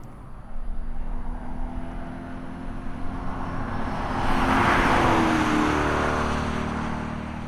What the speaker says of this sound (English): When you're at speed, there is a small amount of wind noise and there's a small amount of road noise